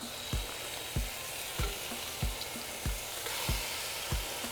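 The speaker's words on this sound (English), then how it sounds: "We're going to set it on high heat. And we're going to place our meat." Pork chunks for carnitas sear in a Dutch oven over high heat with a constant crackling sizzle, broken by evenly spaced low thumps about every half second.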